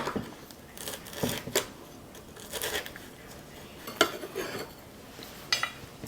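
Irregular sharp knife taps against a cutting board while chopping chili peppers, quiet and close, with scattered louder strikes.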